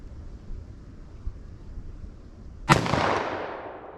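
A single loud gunshot from a .44 Magnum revolver firing a 300-grain load cracks out at an outdoor range after a quiet lead-in, followed by a long rolling echo that fades away.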